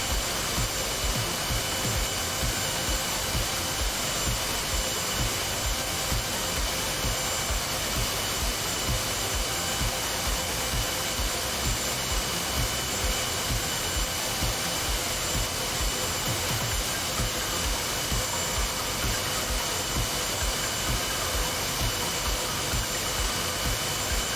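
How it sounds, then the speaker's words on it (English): An F/A-18 Hornet jet engine in the DCS flight simulator drones on as it spools down, a dense steady roar with a high whine that holds at constant loudness throughout. "Engine RPM on the Hornet slowly getting lower"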